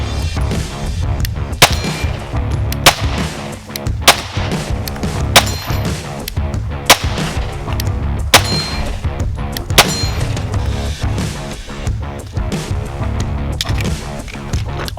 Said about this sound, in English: Let's shoot some guns.